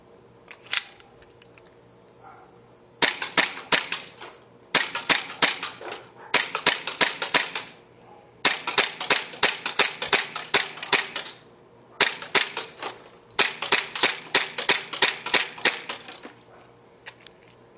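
A customized airsoft 1911 Hi-Capa pistol fires in rapid strings of sharp snapping shots, several bursts separated by short pauses, loud and close.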